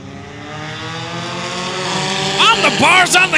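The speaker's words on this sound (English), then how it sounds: "On the gas, we're green flag racing" Race cars at a 2018 Big Chill night race roar past on the track, engine pitch climbing and then sweeping sharply down as they pass close by, loud and layered.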